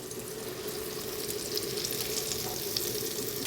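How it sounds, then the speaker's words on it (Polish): Soft, continuous sizzling and crackling of fish frying in butter in a pan, fairly quiet and steady throughout. "masło już jest odpowiednio rozgrzane, czyli mamy lekkie skwierczenie, gdy kładziemy rybę"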